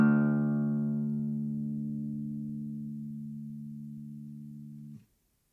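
The low sixth string of an Eastman AC508 acoustic guitar tuned to dropped D, plucked once and ringing alone with a steady sustained tone for about five seconds before being muted.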